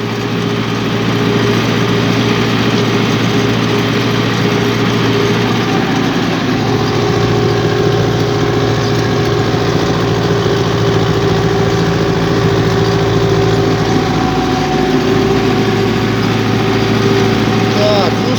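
A tractor engine drones loud and steady throughout, sowing spring barley in a field, a constant mid-low rumble with no breaks and a voice talking faintly underneath.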